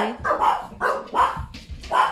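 Several dogs bark in short repeated bursts, about four loud barks spaced roughly half a second apart, fairly close and with no talking over them.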